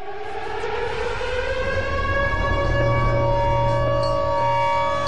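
Civil defense air raid siren wailing on a steady, sustained tone, loud and continuous for several seconds with no voices.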